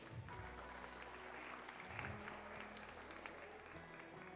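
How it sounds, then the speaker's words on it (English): A crowd at a livestock and cattle show claps steadily for a few seconds, a dense, even patter of applause with faint murmuring underneath. "Let's give all these exhibitors a round of applause"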